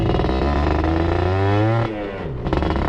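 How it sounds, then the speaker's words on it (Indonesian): A Suzuki Satria 120R motorcycle with an aftermarket exhaust idles and revs up close, giving a steady, loud engine drone that swells and then drops back to a lower idle near the end. "Kalian bisa dengar tuh suara knalpot buat di jalan santainya enak banget."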